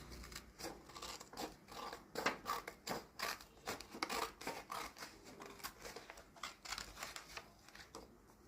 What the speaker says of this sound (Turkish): makasla kesiyoruz.